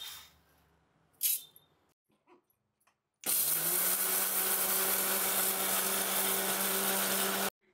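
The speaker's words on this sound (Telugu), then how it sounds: "మిక్సీ పట్టుకోవాలి." A kitchen mixer grinder grinds roasted moong dal into a coarse flour, starting abruptly after a few soft clicks and then whirring loudly and steadily for about four seconds before stopping.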